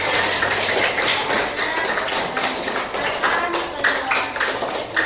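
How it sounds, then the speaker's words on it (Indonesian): A classroom of students claps together, a loud, steady patter of many hands close by, slightly uneven, with some scattered voices under it. "Tepuk tangan sekali lagi buat teman-teman."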